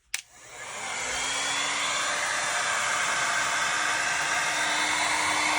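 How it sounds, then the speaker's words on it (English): A heat gun drying a fresh coat of milk paint on a thrifted piece switches on with a click, then settles into a loud, steady, even whoosh of hot air that holds without a break. "now I'm going to hit it with my heat gun"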